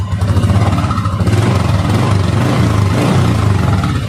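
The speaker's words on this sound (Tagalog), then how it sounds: "Yan ang stock engine." Stock motorcycle engine idling close by, a steady low rumble with even pulsing throughout and no voices over it.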